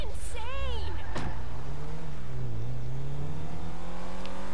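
A car engine drones and revs in GTA 5 Online, a steady mid-pitched hum rising and dipping in pitch with a brief sharp whoosh near the start, continuous under someone talking.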